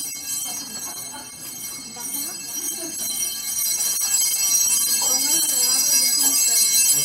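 Bells ring continuously with a bright, layered metallic shimmer, fairly loud, while voices talk underneath during a Corpus Christi procession.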